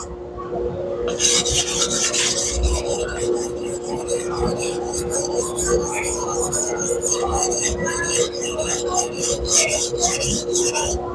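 A 240mm white steel deba knife is worked on a Shapton 320 grit whetstone in rhythmic, gritty back-and-forth strokes, close and fairly loud, each rasping pass repeating steadily.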